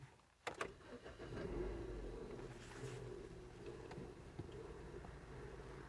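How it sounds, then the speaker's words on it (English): A BMW car engine cranks with a brief sharp burst and catches, then settles into a steady idle hum that continues close by with no talking. "Now, if I start the car"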